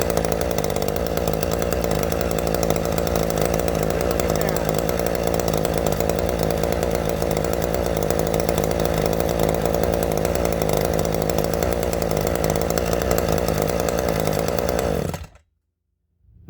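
A Ryobi weed whipper with a modified muffler runs at high revs with a loud, continuous, raspy buzz for about fifteen seconds, then cuts off suddenly into silence.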